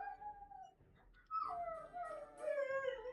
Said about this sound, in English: I think I have a whiny dog